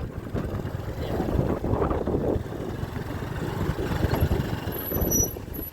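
A boat engine and propeller churn in a continuous low rumble with heavy wind buffeting the microphone, steady and fairly loud throughout, with no voices heard.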